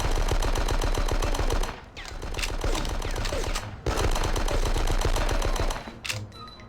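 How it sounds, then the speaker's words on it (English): Rapid bursts of gunfire from Die Hard: Nakatomi Plaza, loud and close, rattling in two long sustained volleys separated by brief pauses, with a short final burst near the end. "going for little burst headshots on guys"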